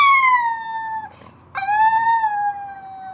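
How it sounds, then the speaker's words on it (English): A pet dog named Macy lets out two long, loud, close howls with a brief break between them, each holding a steady wavering tone that slowly falls. "Howl."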